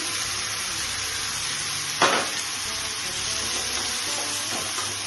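Tomato paste sizzles steadily in a pan for fish curry, a close, even frying hiss, broken once by a brief louder splash and crackle partway through.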